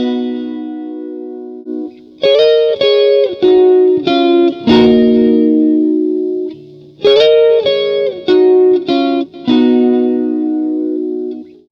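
Musical notes pass through an Avalon VT-737 vacuum tube plugin pushed into overdrive, producing loud, gritty, distorted tones in two short repeating phrases of sustained notes with brief gaps, alone and close.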